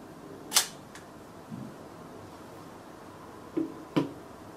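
A few sharp mechanical clicks and ratcheting snaps from a Zorki 3 rangefinder camera's slightly stiff film winder, spaced apart in a quiet room, close and crisp.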